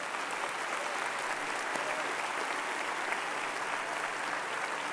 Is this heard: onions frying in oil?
no